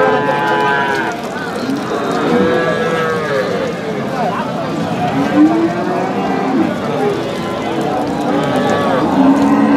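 Cows moo repeatedly amid a busy crowd at a cattle market in Dinajpur, with people talking and calling all around, the lowing overlapping from several animals near and farther off.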